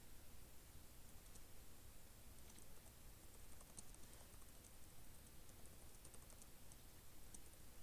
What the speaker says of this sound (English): I'm doing it on my computer to type faster because Xbox keyboard sucks.